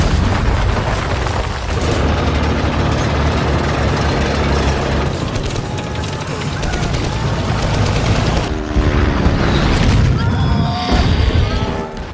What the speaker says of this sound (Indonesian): tank tentara Uni Soviet melintas dan langsung menembaki mereka